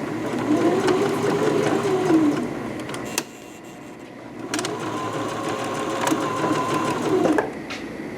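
Sewing machine back-stitching a ditty bag, a steady close whirring run that pauses briefly and starts again for a second pass, with no talk.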